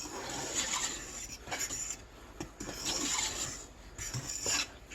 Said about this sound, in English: And then I just kind of use a fork and go through and stir it.